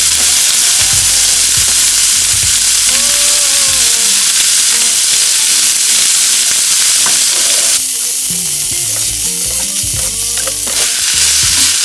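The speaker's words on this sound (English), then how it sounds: "Onions, quick stir. And I'm just going to add just a little bit of oil" Onions stir-fry in a little oil in a pan, a loud, continuous sizzle with occasional scrapes of stirring running throughout, no voices over it.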